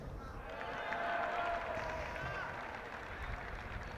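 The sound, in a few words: parents applauding at a schools football final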